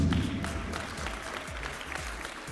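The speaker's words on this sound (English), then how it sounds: "Give her a round of applause, please." An audience at an awards presentation for long-serving staff gives a round of applause, steady clapping that fades slightly toward the end.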